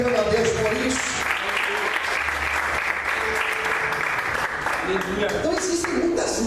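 A church congregation claps together in sustained applause, a dense crowd of hands filling the room, with voices calling out beneath it throughout.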